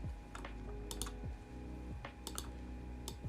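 Quiet, rapid clicks of keys on a computer keyboard come in short irregular bursts, with soft background music humming steadily underneath.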